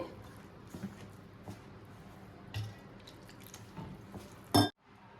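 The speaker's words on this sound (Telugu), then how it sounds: "ఇప్పుడు దీన్ని వాటర్ పోసి కలుపుకుందాం మనకి చపాతీ పిండికి లాగా ముద్దలాగా కలుపుకోవాలి" Flour dough for jaggery sweet puri is kneaded by hand with water, giving soft, wet squelching and dripping sounds that build to a sharp clatter near the end before falling quiet.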